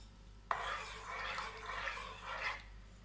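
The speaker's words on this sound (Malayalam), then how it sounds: "പിരിഞ്ഞു പോവാണ്ട് ഒന്ന് ഇളക്കി കൊടുക്കണം" Coconut milk being stirred in a pan for a Kerala sweet snack, a steady scraping swish that starts abruptly and runs close and moderately loud for a couple of seconds before stopping.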